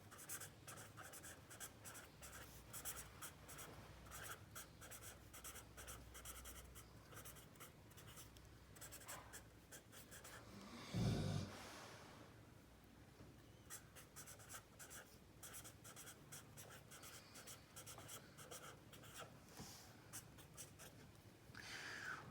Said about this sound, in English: I'm just going to write this up.